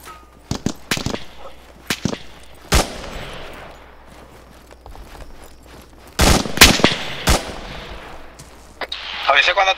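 Gunfire in the Arma 3 military shooter during a co-op urban assault on Fallujah: scattered sharp rifle cracks and short bursts ring out near and far at irregular intervals, with a faint voice talking between shots.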